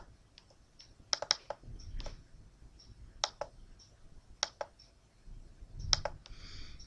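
Computer mouse clicks while operating SPSS, sharp isolated taps spaced irregularly over faint room noise, close and quiet, with a few quick double clicks and no speech.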